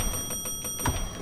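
A countdown timer ticks in the Roblox horror game Doors, a quick regular series of sharp ticks over a faint steady tone, with a louder pair of ticks near the end.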